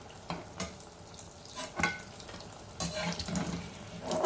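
Lauki (bottle gourd) pakoras, Sindhi style, frying in hot oil over a slow flame, with a soft steady sizzle broken by a few sharp clatters and scrapes as pieces are stirred and lifted out, no voices.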